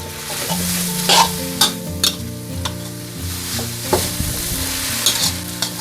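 Carrots stir-fried with glass noodles in a pan for a Thai eight-immortals stir-fry, with steady close sizzling broken by repeated scraping and clattering strokes of a spatula against the pan.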